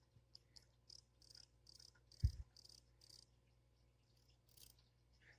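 A bass fishing lure with a rattle inside makes a cricket-like chirp: a run of faint, evenly spaced high chirps, plus one soft low knock midway.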